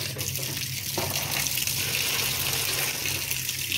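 Water runs steadily from a tap into a tub that is already nearly full of water, a continuous broadband gushing stream that sounds close and fairly loud, heard alone without any voices.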